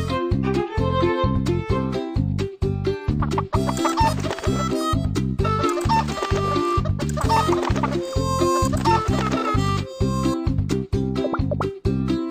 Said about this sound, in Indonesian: Petok-petok, induk ayam menetaskan telur-telur.